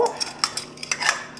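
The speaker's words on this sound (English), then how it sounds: "we're just going to go ahead and mix that up really well" Quick clinks and scrapes of a utensil against a bowl as asparagus is tossed with garlic seasoning, irregular light taps over about a second and a half, close and fairly soft with no talking.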